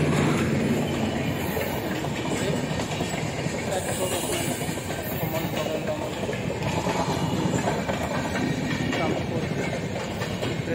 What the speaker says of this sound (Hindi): मालगाड़ी आगे